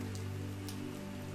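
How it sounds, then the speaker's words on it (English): Steady, soft rain falls in a continuous hiss under a low, sustained tonal drone, with no voices. "There was nothing to do but sleep and listen to the sound of the rain"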